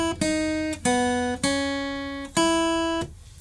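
Guitar picking the second phrase of the Bluey theme melody, four clear plucked notes at a moderate pace, each ringing and decaying, played alone without talk.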